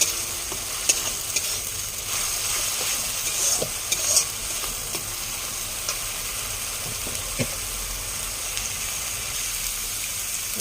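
A paste of green chilli, ginger, garlic and onion fries in oil, giving a steady, moderate sizzle throughout with occasional soft stirring scrapes and taps from a spoon in the pan.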